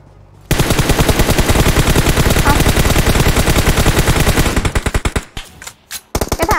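Gunfire at a vehicle in PUBG Mobile comes as a loud, close, nonstop burst of rapid automatic shots lasting several seconds. It then breaks into shorter bursts with brief gaps.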